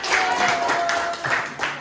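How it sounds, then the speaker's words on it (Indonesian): A classroom group applauds a student discussion group after their presentation, a short, fairly soft burst of clapping with a faint voice or tone running underneath. "Tepuk tangan untuk kelompok 1"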